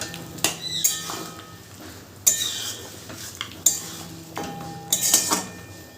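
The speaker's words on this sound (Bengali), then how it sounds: "সমস্ত মাংসটাই দিয়ে দিলাম এবারে সমস্তটা মিশিয়ে নেব" Mutton for biryani is stirred in a metal pot, giving a series of sharp clanking scrapes and knocks of a spoon against the pot, irregular and spaced a second or so apart, close and fairly clear with no talk.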